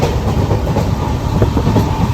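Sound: train running on rails

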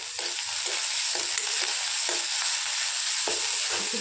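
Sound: ginger garlic chili paste frying in a pan

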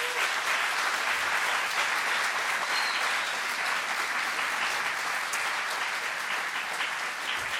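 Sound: applause

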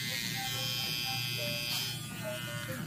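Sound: Philips trimmer running

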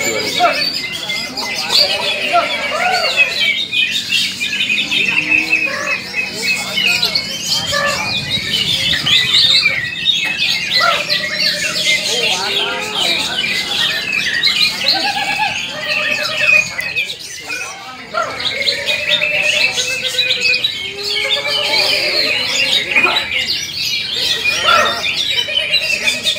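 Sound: green leafbirds (cucak hijau) calling at a songbird contest

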